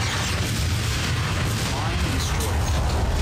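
A weapon fires at a space mine in the Starfleet Academy video game, a dense continuous booming blast that fills the whole moment loudly and evenly without any pause.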